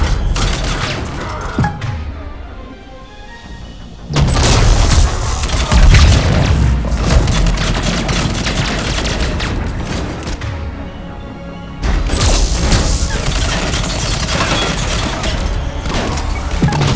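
Grenade blast in Mass Effect 3 combat, a heavy booming explosion that swells loud around four seconds in amid continuous battle noise, with another surge of loud rumbling and gunfire near twelve seconds.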